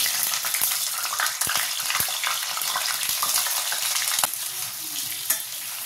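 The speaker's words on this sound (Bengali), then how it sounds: "পটলগুলোকে ভেজে নেব" Pieces of pointed gourd (potol) fry in hot oil, giving a steady, close crackling sizzle with scattered sharper pops. No voices are heard.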